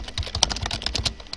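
Rapid typing on a computer keyboard, a dense, uneven run of crisp, close key clicks with no voices.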